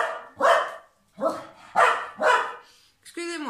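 A dog barks in a house with the door and garden open, giving four sharp barks at a fairly regular pace, close and loud, followed by a brief higher whine or yelp at the end.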